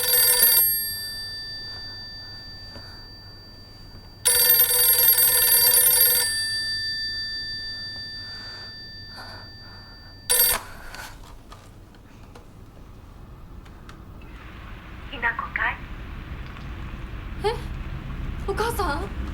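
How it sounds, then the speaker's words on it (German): The house telephone in Shu's home in the Silent Hill f video game rings in loud, close bursts with long pauses between them. A softer, fluttering ambience follows. "Es ist Shus Telefon, also das Telefon bei Shu im Haus, das klingelt."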